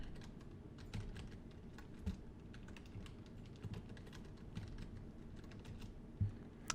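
Quiet typing on a computer keyboard, a steady run of light, irregular key clicks with a few louder taps, close and alone.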